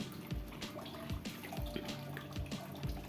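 Tap water runs and splashes steadily as homegrown, unsprayed spinach leaves are rinsed by hand in a kitchen sink, with faint drips and soft wet handling sounds throughout, fairly close and continuous.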